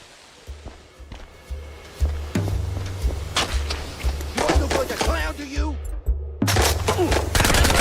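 Rapid bursts of gunfire in Mouse P.I. for Hire, a cartoon noir shooter set on a glitzy movie-studio avenue, crackling in loud volleys that build and stop, with a short lull before the shots resume.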